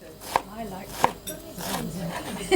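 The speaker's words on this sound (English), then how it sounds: "Has anybody chop onions like this?" Onions being chopped on a board at a First World War–style risotto demonstration: a few sharp, spaced knife knocks ring out near the mic while people talk and murmur alongside.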